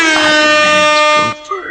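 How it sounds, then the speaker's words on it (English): A loud, close air horn sound effect blares in one sustained blast for over a second, then cuts off, with voices chatting beneath it during a tabletop game session. "with the air horn sound"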